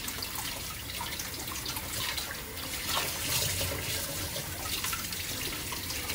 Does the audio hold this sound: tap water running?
yes